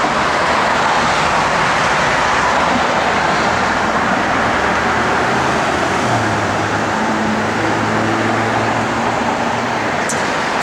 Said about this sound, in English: when we fire this thing up, it's got plenty of power